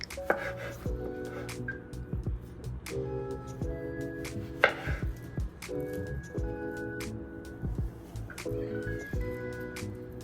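A knife cuts a plantain lengthwise on a board, making a few separate close taps and scrapes. They sit under steady tonal background music, with no speech.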